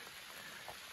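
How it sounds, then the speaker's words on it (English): Rain patters softly and steadily on the Ottawa Temiskaming Highland Trail, a faint, even hiss of drops falling on a surface. "getting some rain, getting some thunder here and there"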